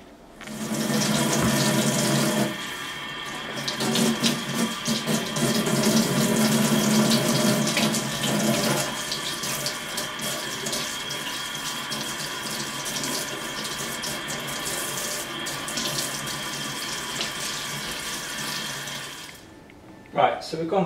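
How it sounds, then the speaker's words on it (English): Cold tap water gushes steadily into a sink as freshly dug dandelion roots are rinsed of mud, a loud continuous splashing that shifts in tone as the roots are moved under the stream, then stops abruptly near the end. "run it under cold running water to get all of the last bits of mud out"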